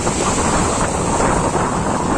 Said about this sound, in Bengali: খোলা জলে কিন্তু সমুদ্রের সেই উত্তাল ভাব কিন্তু রয়েছে, এবং পুরো উঁচু ঢেউ